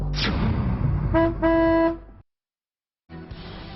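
A vehicle horn honks in two short bursts over traffic noise, then brief silence before the street sound returns.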